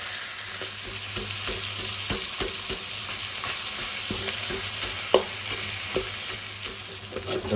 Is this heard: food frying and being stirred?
yes